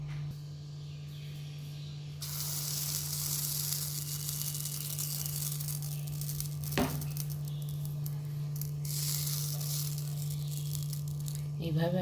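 Chitoi pitha batter sizzles as it is spooned into a pan brushed with white oil. A steady hiss swells each time a spoonful lands, over a constant low hum and a brief clink.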